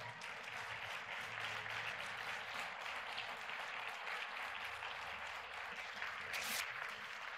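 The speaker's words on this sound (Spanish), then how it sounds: "Dele un aplauso al Señor por eso." A church congregation applauds during a sermon, a faint, steady wash of clapping throughout.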